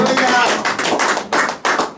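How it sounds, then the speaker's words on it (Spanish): A church congregation claps its hands in praise, loud rhythmic clapping in close, repeated bursts that fill the room throughout. "Dale palmas al Señor"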